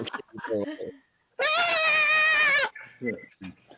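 Someone talks briefly, then lets out a loud, sustained, high-pitched scream lasting about a second, followed by more talk.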